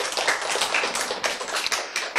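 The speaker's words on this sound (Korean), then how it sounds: "여기서 박수가 나와야 되는 거야." A congregation applauds during a church lecture, a close, dense patter of many hands clapping that holds steady for a couple of seconds, with no voices over it.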